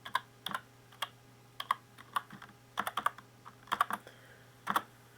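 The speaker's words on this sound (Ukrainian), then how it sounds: "ми вводимо його з клавіатури" Someone types on a computer keyboard at a desk, sounding about a dozen crisp, close key clicks in short irregular clusters over a faint steady hum, with no talking.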